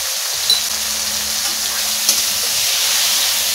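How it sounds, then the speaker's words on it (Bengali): Ground spices with turmeric and chili powder fry in hot oil in a pan for a Bengali katla fish curry, giving a steady, close sizzle with a couple of sharp crackles and soft stirring scrapes, no voices. "মশলাটা ভালো করে কষে নেব"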